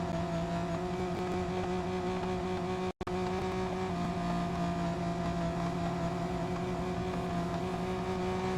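A racing car engine in the mobile game Real Racing 3 holds a steady, droning whine at high revs, continuous and close, with one abrupt instant dropout near the middle.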